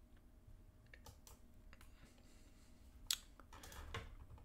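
Quick, light keystrokes on a computer keyboard as a file name is typed, soft irregular clicks with one sharper tap, close and faint in a quiet room, no speech.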